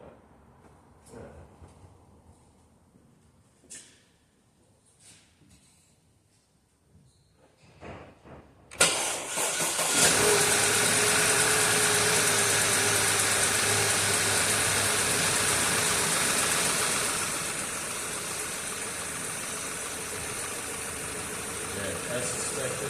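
An Audi engine with a misfire on cylinder 2 cranks and catches partway through, then idles loudly and unevenly, a rough, steady running note that softens slightly toward the end, with quiet clicks before the start.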